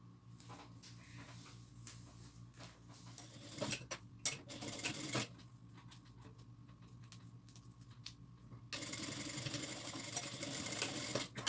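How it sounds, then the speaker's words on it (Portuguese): A sewing machine stitching a seam on a fabric placemat with a cover, running in bursts of rapid rattling needle strokes with brief pauses and a longer steady run at the end, close and fairly quiet, no talk. "E faço a costura bem na linha da marcação."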